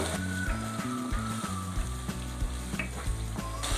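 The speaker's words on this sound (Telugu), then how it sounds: "ఇప్పుడు టమాటా పేస్ట్ వేసుకుందాం. ఇది కూడా పచ్చివాసన పోయే వరకు వేయించుకుందాం." Tomato paste frying in a pan while making restaurant-style chicken curry, a steady close sizzle and crackle running throughout with a low tonal hum underneath and no talking.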